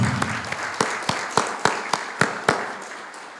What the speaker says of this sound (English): je demande aux membres de notre compagnie de vous souhaiter la bienvenue par leur applaudissement